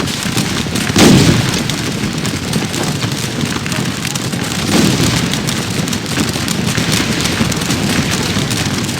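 Musket and artillery fire in the Napoleonic battle game Scourge of War Waterloo, a dense, loud crackling roar of volleys with two heavier booming bursts rising out of the continuous din.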